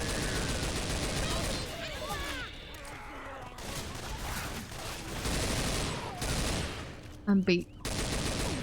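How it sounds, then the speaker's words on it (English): Rapid bursts of gunfire from a Halloween shooter video game, dense and continuous under overlapping game sounds, with players talking over it and a sharp louder burst near the end. "Why you shooting me?"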